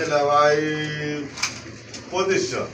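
Pigeons at a Bangladeshi pigeon farm coo softly in a few low bursts under a voice, with a brief rustle midway.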